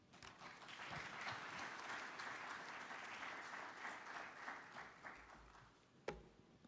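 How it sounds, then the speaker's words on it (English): Sustained audience applause at a stock exchange listing ceremony in Rwanda, a broad steady wash of clapping that holds for several seconds, tapers near the end and closes with a sharp knock. "Can we please give him a big round of applause one more time?"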